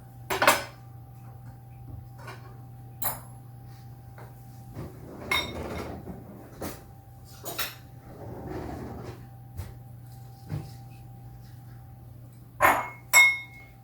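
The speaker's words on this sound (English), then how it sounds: "Daniel's going to mash that with a fork" Avocado mashed with a fork in a bowl, a series of scattered clinks and scrapes of metal against the dish with quiet gaps between them.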